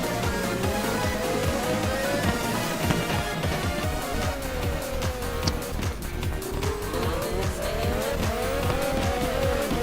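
Race cars roar past in a racing video game at the Vallelunga circuit, engines whining up and down through gear changes with tire squeal as one car tries to overtake another, loud and continuous without talk.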